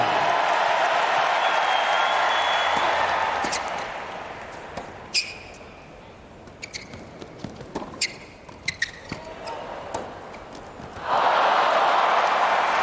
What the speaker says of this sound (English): the old don't care about the crowd applause